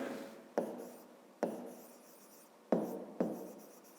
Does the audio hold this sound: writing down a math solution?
yes